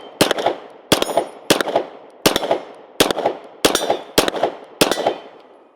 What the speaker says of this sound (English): Let's take a few more shots with it just with iron sights.